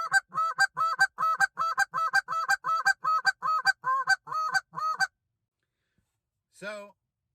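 A handheld goose call imitates geese with a moan-and-cluck sequence, sounding like two birds: a loud, steady run of about fourteen rhythmic honking calls, then a pause and one short final call.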